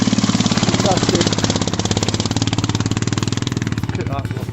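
Royal Enfield Himalayan motorcycle riding off-road in Wales, its single-cylinder engine thumping in a steady, loud, close pulsing rhythm throughout, with voices faintly underneath.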